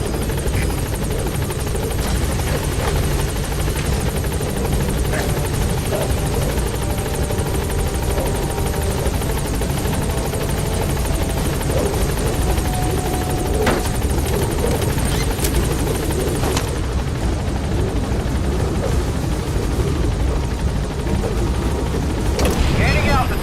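Helicopter from the video game Metal Gear Solid V, its rotor thudding and engine whining loud and steady throughout, with radio-style voices speaking over it and a brief shift in the noise near the end.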